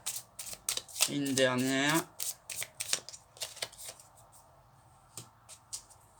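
Tarot cards being shuffled, a quick riffling burst followed by scattered soft card flicks and taps, close and quiet, with someone speaking briefly.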